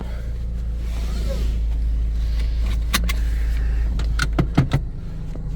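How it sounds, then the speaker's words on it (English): A seatbelt clicks and rattles inside a 2013 Subaru Impreza Premium AWD, a few sharp close clatters and a latch snap over a steady low cabin hum. "let's buckle up"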